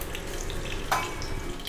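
Mustard seeds and fenugreek sizzle in hot oil while tempering for agathi keerai sambar, a soft continuous crackling hiss with one brief sharper pop, close and fairly quiet.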